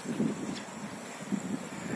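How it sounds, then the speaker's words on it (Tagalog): Steady wind blowing at a beach in Andagao, Kalibo, Aklan, buffeting the microphone in soft gusts with a low rumble. "Mahangin."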